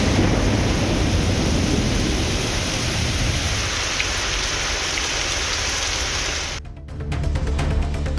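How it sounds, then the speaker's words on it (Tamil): Heavy rain falls in Poonamallee near Chennai as a dense, loud, continuous roar of drops on surfaces, close and steady, with a brief dip near the end and no voices. "சென்னை அடுத்த பூந்தமல்லி சுற்று வட்டாரத்தில் கனமழை பெய்தது."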